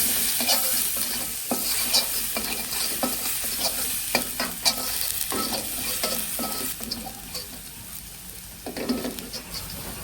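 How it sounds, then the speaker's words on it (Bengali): Chopped garlic frying in a wok for garlic fried rice, a constant crackling sizzle with repeated spatula scrapes and taps stirring through it, close and fairly loud with no talking. "গার্লিকগুলো একটু ভালো করে ভেজে নিচ্ছি"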